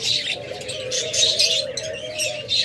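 Pet rainbow birds sold in pairs chirp continuously in dense, high tweets, a busy overlapping chatter of many small birds close by with a steady low hum beneath.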